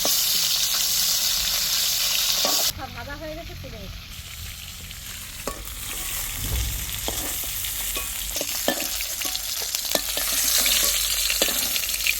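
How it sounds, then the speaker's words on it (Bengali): A fish head frying in oil in a wok, a steady loud sizzle throughout with the pitch shifting partway as something is added, plus occasional stirring scrapes, no talk. "এবার আমি মাছের মাথাটা ভাজা করে শাকটা রান্না করব"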